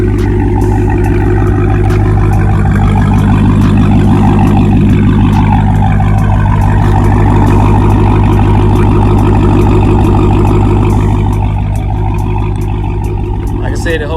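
A 2020 Dodge Charger Hellcat Widebody with a custom exhaust rumbles loudly and steadily up close for the whole stretch, with a deep, heavy drone and a slight swell of revving near the middle.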